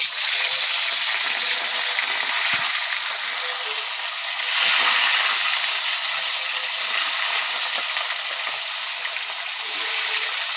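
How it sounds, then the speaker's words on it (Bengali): Rohu fish pieces fry in hot oil in a wok over low heat, giving a steady, close hiss and sizzle that holds evenly throughout with no talking. "এরপর হালকা আঁচে মাছগুলি ভাজার জন্য রেখে দিলাম"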